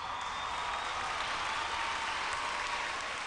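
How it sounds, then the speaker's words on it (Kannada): A Hubballi comedy show audience gives a continuous, even roar of applause, a dense hiss of many hands clapping without any clear breaks. "ಅವ್ರ ಚಪ್ಪಾಳೆ ಮೂಲಕ ಹೇಳ್ಬೇಕು."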